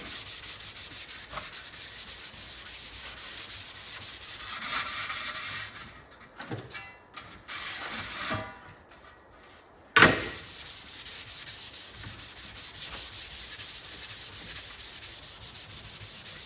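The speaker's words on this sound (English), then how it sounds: "So it's all we need to do is just scuff it up." Steady hand scuffing of silver metal arcade parts with an abrasive, a continuous close rasping rub that pauses briefly midway with a sharp knock before resuming, no voices.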